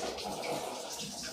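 Tap water runs in a steady, continuous stream, a close, even wash of sound that stays level throughout with no voices over it.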